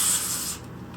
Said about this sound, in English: We're gonna douse this bad boy with some contact spray